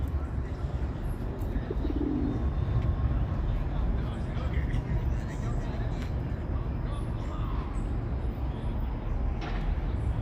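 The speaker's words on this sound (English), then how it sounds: "We'll humor some more pigeons until then." Pigeons on a downtown Toronto sidewalk give soft, faint coos against steady street noise and a constant city hum.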